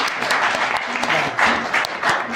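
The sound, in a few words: audience applause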